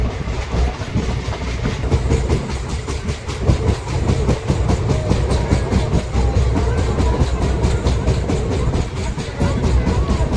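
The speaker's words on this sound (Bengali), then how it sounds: "ট্রেন এখন গুসকরার কাছাকাছি চলছে" Rampurhat–Howrah Sahid Express 12348 rolls along near Guskara, a loud continuous rumble with rhythmic clickety-clack of wheels over rail joints, heard from inside the train.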